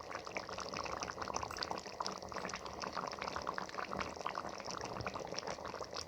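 A pot of sea mourala fish curry with taro and eggplant bubbles and simmers after a little mustard oil is drizzled on top, a busy, continuous wet burbling up close with no talk.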